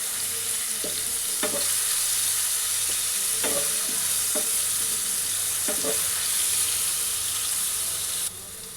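Chopped onion, garlic paste and green chilli frying in a generous amount of oil, a continuous close sizzle punctuated by several spoon scrapes and stirs, ending slightly quieter.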